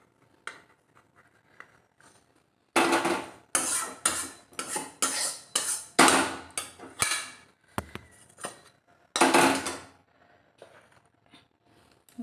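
A metal plate is picked up and handled while making dudh puli pitha, with a burst of close, bright metallic clatters and scrapes in quick succession between quieter stretches.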